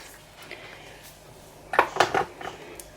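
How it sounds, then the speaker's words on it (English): Plastic stir stick clinking and scraping inside a cup of resin mixed with blue glitter, a short burst of three or four quick taps and scrapes near the mic, otherwise quiet. "Just give it a mix around"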